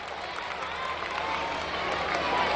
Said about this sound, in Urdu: میں چاہوں گا کہ زوردار تالیوں سے مبارک صاحب کا استقبال کریں